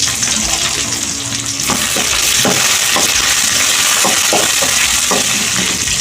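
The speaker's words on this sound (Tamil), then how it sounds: "வெங்காயம் நல்லா வதங்கிட்டே இருக்கணும். நல்லா எண்ணெயில் வதக்கி எடுத்துடலாம் வெங்காயத்தை." Small onions, popped mustard seeds, dried red chillies and coriander sauté in hot oil for a South Indian tomato chutney, giving a close, steady hiss. A spoon scrapes and knocks against the pan at intervals, and no one speaks.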